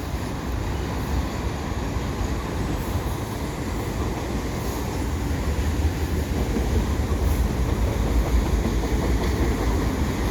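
A Canadian Pacific eastbound mixed freight train rumbles past continuously at close range at the Sources Boulevard overpass, steady heavy rolling noise with faint wheel squeals and clatter, no talking.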